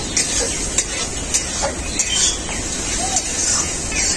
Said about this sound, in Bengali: আলুটাকেও মশলার সাথে খুব ভালো করে কষিয়ে নেব